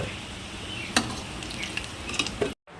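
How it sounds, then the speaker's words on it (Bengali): Potato pieces sizzle in hot oil in a pan, a steady frying hiss broken by a few sharp clinks of a spoon stirring, ending abruptly in silence. "সেই আলুগুলো তেলের মধ্যে দিয়ে দেব দিয়ে আলুগুলো একটু লাল করে ভেজে নেব"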